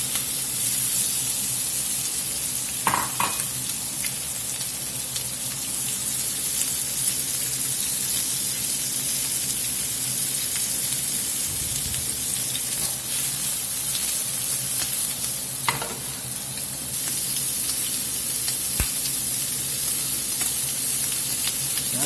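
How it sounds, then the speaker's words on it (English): Shrimp sizzle and brown in a pan over a medium-high flame, a steady, close hiss of frying that runs throughout with a few brief clinks and stirs, no talking. "I'm going to run it pretty hot, browning this shrimp off."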